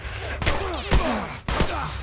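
Gunfire inside The Last of Us: a few sharp, loud shots at irregular spacing over dense game ambience, with speech faintly mixed in.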